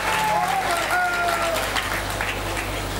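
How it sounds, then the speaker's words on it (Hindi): Audience applause at a public gathering, a steady wash of clapping lasting throughout with background voices and a faint tonal hum underneath. "आप जोरदार ताली बजा के इसका स्वागत करिए।"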